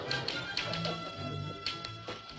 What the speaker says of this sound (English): he's typing like mad. He's done 10 pages already.